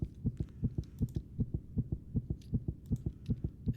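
A sped-up heartbeat sound effect thumps in a fast, even rhythm, around four beats per second, with muffled low pulses that are clear and alone, with no voices.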